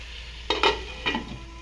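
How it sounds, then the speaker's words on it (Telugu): Cut eggplant curry fries in a pan while a spoon stirs it. A quiet sizzle runs underneath two short bursts of scraping and clattering against the pan. "కట్ చేసిన వంకాయలను కూడా ఇలా వేసామండి. మొత్తం ఒకసారి కలుపుతాం."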